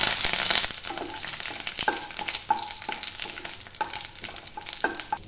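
Dried red chillies and curry leaves sizzling in hot oil with popped mustard seeds, a busy crackle punctuated by repeated metallic knocks and scrapes of a spoon against the pan.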